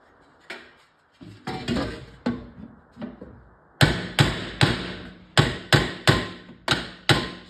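Metal strikes from a claw hammer prying at and tapping an oil-canned arcade coin door on a Stargate cabinet: a few spaced knocks, then a rapid run of sharp, ringing metallic blows close up, with no talking.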